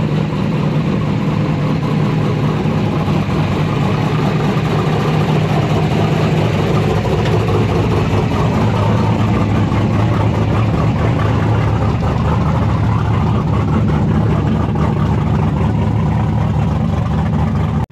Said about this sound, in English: Did I mention the cars are really loud?